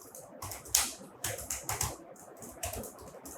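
Bursts of typing on a computer keyboard while entering text into an HTML page, quick clustered keystrokes in several runs, close and clear with no talking.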